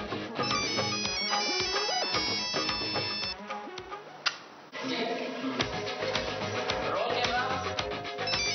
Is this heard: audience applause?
no